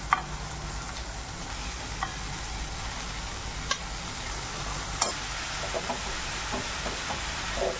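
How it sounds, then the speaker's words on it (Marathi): Chopped coriander with salt stirs and sizzles in a pan for a Maharashtrian kothimbirchi bhaji, a steady fry hiss with faint scrapes of the spoon at intervals. "त्यामध्ये मी ही कापलेली कोथिंबीर टाकते."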